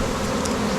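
Honeybees from a newly introduced colony buzz steadily at a mountain farm, a dense continuous drone close by with no voices.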